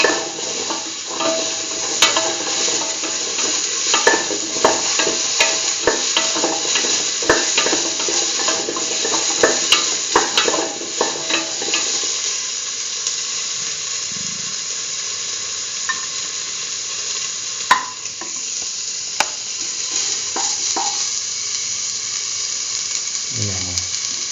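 Beetroot and mung bean curry stew sizzles and frys in a pan while being tossed and stirred, a steady hissing bed with frequent clinks and scrapes of a utensil against the pan, quieter toward the end.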